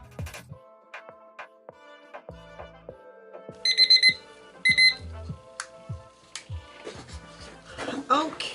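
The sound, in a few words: kitchen timer alarm ringing after five minutes of mixing resin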